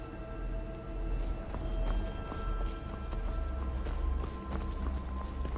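Horse hooves of an Imperial patrol rider in the game Skyrim clop steadily along in a quick, even rhythm, close and continuous over a low ambient background bed.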